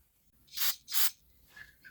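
Two quick, close hissing bursts of carburetor cleaner blast through a port on a Ferguson TO20 tractor carburetor, followed by a faint trailing hiss.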